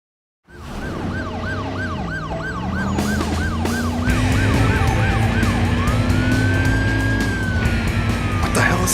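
An ambulance siren in the driving game Driver San Francisco wails continuously in rising and falling sweeps over a steady car engine roar, loud and close throughout.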